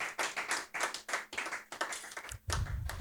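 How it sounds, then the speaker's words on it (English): Rhythmic clapping from an audience at a doctors' induction ceremony, a series of sharp hand claps in bursts that swell into fuller applause near the end, close and moderately loud with no talking. "they deserve a round of applause"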